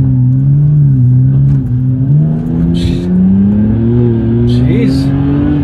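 A car with a Windbooster mod in race mode accelerating, a loud, close engine drone heard from inside the cabin that rises steadily in pitch, with brief voices partway through.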